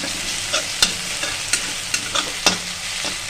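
Grated garlic and ginger fry in a pan with a steady sizzle, punctuated by regular sharp spatula ticks against the metal as it is stirred, close and fairly loud.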